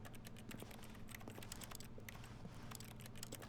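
Quiet keyboard typing from The Stanley Parable, a fast, continuous run of light clicks and taps with no talking.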